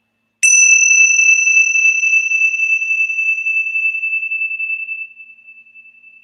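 A meditation bell struck once, ringing out with a clear bright tone that sustains and slowly fades over several seconds, alone and close.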